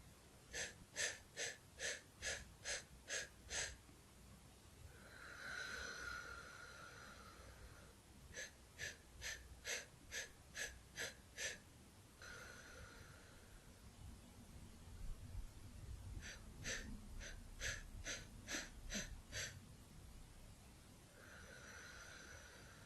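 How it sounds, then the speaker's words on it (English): Stair step yoga breathing: three rounds of eight short, sharp sipping inhales through the nose in quick rhythm, each followed by one long, slow, breathy exhale, close and clear with no talking. "Let's do that together to a maximum of 8 sips in. 1 long slow breath out."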